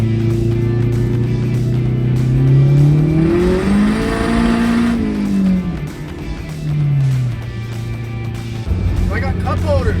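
A custom-built gutted project car drives and accelerates, its engine tone rising and falling through several gear changes, loud and close from inside, with someone talking over the engine.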